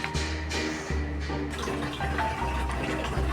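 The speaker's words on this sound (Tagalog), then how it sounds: "Lalagyan ko ng tubig." Water from a tap or hose rushes steadily into a large plastic tub for betta fish, a continuous close splashing fill with no talking.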